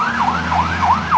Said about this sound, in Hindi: रात के सन्नाटे को चीरती हुई तेज सायरन की आवाज के साथ पुलिस की गाड़ी उस गाड़ी के पास आकर रुकी।